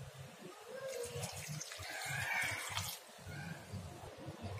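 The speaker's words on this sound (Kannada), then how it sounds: "ಇವಾಗ ಒಂದು ಅರ್ಧ ಗ್ಲಾಸ್ ನೀರು ಹಾಕ್ತಾ ಇದ್ದೀನಿ." About half a glass of water trickles into a mixer jar holding chopped ginger for an apple, beetroot and carrot juice, a soft close pour with faint low murmuring underneath.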